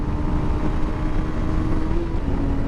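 A 2023 Suzuki GSX-250R motorcycle engine holds full throttle, a loud sustained drone with a steady pitch and heavy wind rush, and no one speaks.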